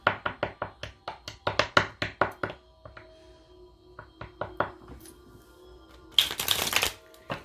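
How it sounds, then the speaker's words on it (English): Tarot cards are shuffled in a steady run of crisp riffling slaps, then a pause with soft taps and a louder dense riffle near the end, close and alone. "Let's get a good shuffle on."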